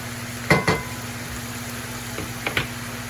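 Philly steak meat browning in a cast iron pan, a steady low sizzle with a few louder bursts of scraping or stirring near the start and again toward the end.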